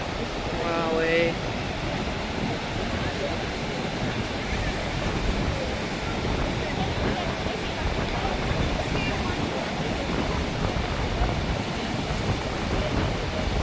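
Wind blows steadily through a cold night beside the Niagara River, a continuous broadband rush with surf-like swells, loud and close on the microphone, with a brief faint tonal sound near the start.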